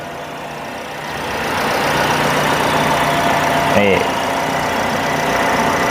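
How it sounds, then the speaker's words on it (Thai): A 2016 Toyota Vios 1.5E automatic sedan's petrol engine idles with the hood open, giving a steady, even hum heard up close. Someone speaks briefly over it. "เสียงเครื่องยนต์ปกตินะครับ"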